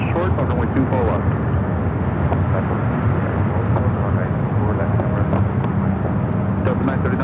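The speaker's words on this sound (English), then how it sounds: "runway 24 left, clear for takeoff" Airliner on the runway at Los Angeles International Airport, a loud, continuous jet roar with rumbling low end, while tower radio chatter with brief clicks runs over it.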